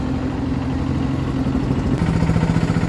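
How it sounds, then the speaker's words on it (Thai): A Kubota engine on a small four-wheel vehicle idles steadily nearby with a low, even chugging rumble that shifts slightly in tone partway through. "ใส่เครื่องคูบต้าเนาะ"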